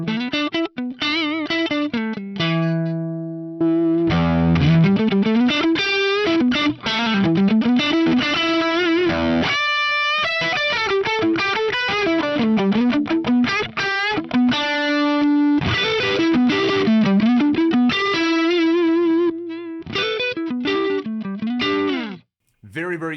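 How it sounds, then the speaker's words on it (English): Electric guitar through an FM3 griddle cake overdrive modeled on a Crowther Hotcake pedal, a warm, smooth driven tone playing a continuous run of chords and melodic licks, loud and up front with no speech. "One of my favorite drives is this griddle cake based on a real world Crowther hotcake"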